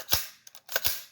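A Radical RF-15 rifle fires a few sharp shots heard faint and distant, one isolated crack followed after a pause by a quick cluster of reports.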